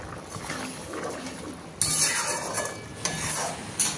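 Egg curry gravy simmers in a pot while a spoon stirs and scrapes it, with soft bubbling sizzle and occasional metallic clinks against the pan, close and fairly quiet.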